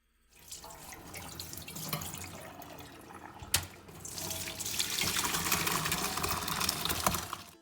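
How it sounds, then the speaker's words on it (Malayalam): Cooked pasta for white sauce chicken pasta is tipped into a strainer, a steady close rush of pouring water with splashing and light metallic rattles, building louder toward the end, no voices. "പാസ്ത ഒരു സ്റ്റെയിനറിലേക്ക് മാറ്റി കൊടുക്കുക."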